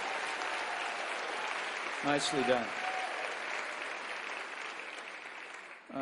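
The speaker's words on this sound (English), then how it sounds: "that's worth a round of applause." At a town hall in Tucson, Arizona, the audience breaks into sustained, even applause that fills the room, with a voice briefly speaking over it partway through.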